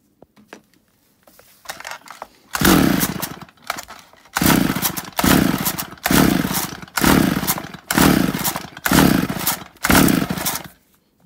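A chainsaw that won't start is pulled over and over: a series of about eight rough, sputtering bursts, each catching briefly before dying, loud and close, with no speech.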